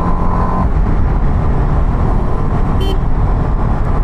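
An Apache RR310 motorcycle runs along a road after an engine oil change, giving a steady, loud engine and road rumble with wind noise and a brief horn toot in the background traffic.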